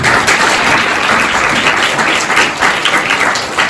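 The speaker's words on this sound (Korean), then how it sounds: "박수 부탁드립니다" Loud, sustained applause from the audience at a debate festival closing award ceremony, many hands clapping in a thick, even wash with slight swells.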